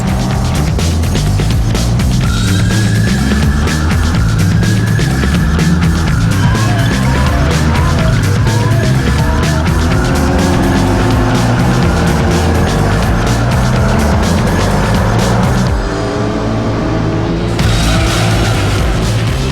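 High-end concept cars race in Gran Turismo Concept on PS2, with engines roaring continuously and loudly throughout as the revs rise and fall. Music and effects play without a break.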